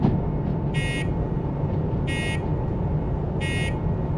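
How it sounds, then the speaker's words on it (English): A harsh locomotive warning buzzer from the train simulator game Derail Valley sounds in three short, evenly spaced bursts over a steady low engine drone. "It isn't even a bell, it's just a buzzer. And an annoying one at that."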